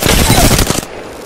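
A loud, close burst of rapid automatic gunfire from the video game Apex Legends rattles for under a second before cutting off abruptly into quiet.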